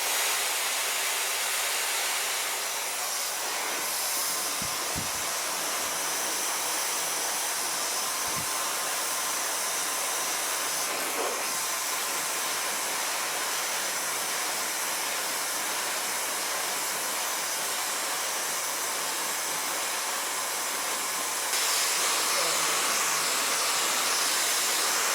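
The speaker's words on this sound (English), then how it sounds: "then I can dry the hair" A hair dryer blow-drying hair runs continuously as a steady, fairly loud airy hiss. The level shifts slightly as it moves, with a couple of faint low bumps along the way.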